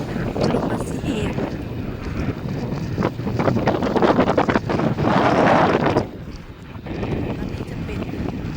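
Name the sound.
wind blowing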